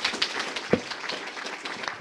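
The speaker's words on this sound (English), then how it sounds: "give a big round of applause to you" Audience applause after a lecture at a plant-based nutrition conference: brief, moderately faint burst of many hands clapping in a hall, with no speech over it.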